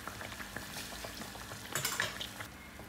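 A triangular tuna sandwich deep-fries in hot oil, giving a steady close crackling sizzle that swells into a brief busier burst of bubbling before settling again.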